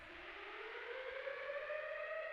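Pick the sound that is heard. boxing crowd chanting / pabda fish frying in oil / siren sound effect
siren sound effect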